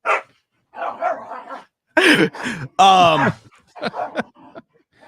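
Dogs bark loudly and close by in short clustered bursts, mixed with whiny groans and yips, leaving brief silent gaps between the outbursts indoors.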